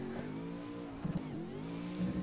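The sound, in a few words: supercharged V8 drift car engine in Assetto Corsa video game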